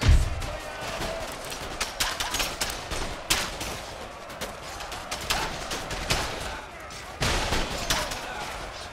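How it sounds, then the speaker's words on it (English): Musket volleys in the strategy game Empire: Total War crackle continuously as massed line infantry fire, with sharp louder reports rising out of a dense battlefield roar that carries on for the whole span. "We are shooting at them, as you can see."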